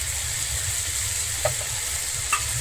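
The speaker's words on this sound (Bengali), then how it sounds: "আমি আবারও খুব ভালোভাবে এখানে মিশিয়ে নিচ্ছি মশলাটা" Ground coriander, Kashmiri chili powder and turmeric are stirred in oil in a cooking pan for a Bengali koi fish curry with taro: a steady, low frying hiss with a couple of faint scraping ticks.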